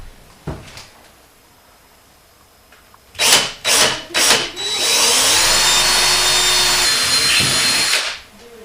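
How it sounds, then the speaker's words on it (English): Power drill with a 1/8 inch bit boring a small hole while installing sliding glass doors on a tub and shower, starting in three short close bursts, then one steady loud whine for about three seconds before stopping. "So 1/8 inch drill bit."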